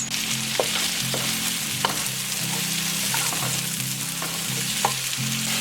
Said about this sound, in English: So I'm going to just quickly slice this into rings and get it in the pan with some olive oil, salt and pepper